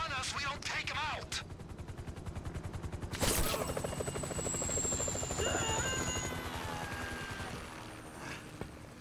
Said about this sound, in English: That chopper's gonna be on us, we don't take him out!